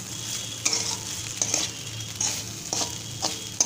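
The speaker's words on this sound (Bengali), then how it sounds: "নেড়ে চেড়ে মিশিয়ে দিচ্ছি।" Egg fried rice being stirred in a hot pan, a steady sizzle broken by a few sharp scraping strokes of the spatula roughly every second, close and fairly quiet, with no talking.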